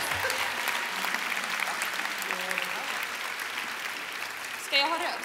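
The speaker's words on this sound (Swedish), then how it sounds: "En varm applåd till dem." A festival crowd in Malmö gives warm applause for last year's winners, a dense patter of clapping that swells and then thins, with brief voices and a short vocal burst near the end.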